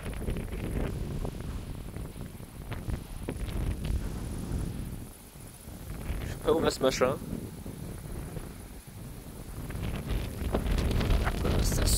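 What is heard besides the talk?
gusts of wind during a storm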